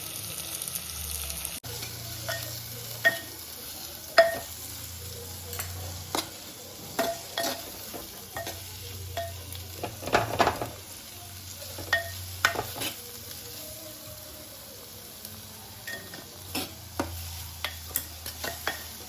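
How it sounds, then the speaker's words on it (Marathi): Onions fry in a pan for a chicken dish, a steady sizzle punctuated by repeated clinks and scrapes of a spoon stirring against the metal, close and continuous with no talk. "कांदा चांगलं भाजून घ्यायचो कांदो भाजता मस्त आहे"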